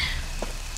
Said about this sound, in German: Wir stehen hier im Regen.